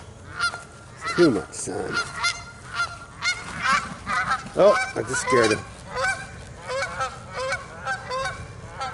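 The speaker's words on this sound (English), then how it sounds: "There are my geese." A flock of geese at an off-grid homestead honks repeatedly at mid distance in overlapping nasal calls while a person talks over them.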